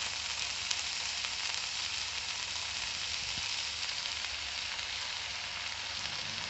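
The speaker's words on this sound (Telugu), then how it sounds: "మునగాకు వేసుకున్నాక బాగా వేపుకోవాలండి" Two bunches of washed and dried moringa leaves frying in a pan for a chutney, making a continuous dense, even sizzle close up, with no voices.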